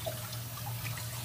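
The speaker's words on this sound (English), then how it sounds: "put the water on." Water running from a tap into a hair-filled sink while a dog is bathed, a quiet continuous trickle with faint drips over a low steady hum.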